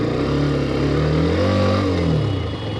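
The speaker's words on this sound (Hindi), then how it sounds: "देखते हैं बाइक यहाँ पे चढ़ती है पिलियन के साथ या नहीं" A Hero Xtreme 125R motorcycle carrying a pillion rider climbs an off-road slope, its engine revving loudly and continuously as it strains up and down in pitch under load, with no voices.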